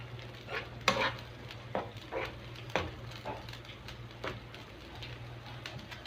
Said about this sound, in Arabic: هنزل عليها بقى بالفلفل الالوان اخضر واصفر واحمر، وهديها بقى تقليبه كويسه